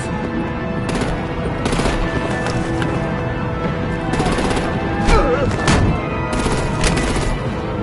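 Gunfire in the Batman: The Enemy Within video game, dense rattling bursts and shots layered over a loud, busy game soundtrack, with some voices mixed in.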